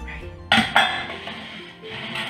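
A dish of chicken goes into a preheated oven with a sharp clank of metal cookware, a second knock, then a faint rattle as the tray settles.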